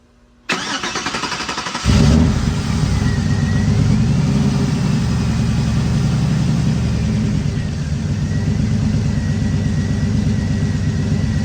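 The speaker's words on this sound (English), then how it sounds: "I'm gonna start the truck." A turbocharged 1991 Chevrolet Silverado 1500 pickup engine cranks and catches, then settles into a loud, steady rumbling idle close by, with a faint whine above the engine noise.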